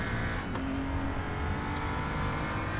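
A BMW M235i Racing car's engine in the RaceRoom racing game, recorded from inside the cockpit on track: a loud, steady, continuous engine drone throughout with no pauses.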